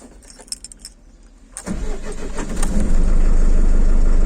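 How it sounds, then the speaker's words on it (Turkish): A car engine cranks and starts after a brief jingle of keys, then settles into a loud, steady close-up idle that grows fuller toward the end. "Arabayı çalıştırmayı unuttuk."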